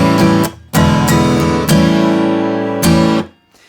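Guitar sounding several dominant 7th chords for a 12-bar blues, each one strummed and left to ring for a second or so, close and loud with short gaps between chords.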